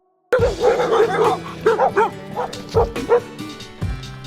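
Several young puppies yip and bark in quick, high-pitched bursts close by, with whimpers mixed in and a few louder barks toward the end.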